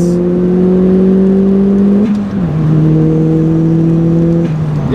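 Mitsubishi Colt 1.5 Turbo producing about 215 bhp, its engine revving loud and close with a steady rising tone, a brief dip as it shifts, then climbing again before easing off.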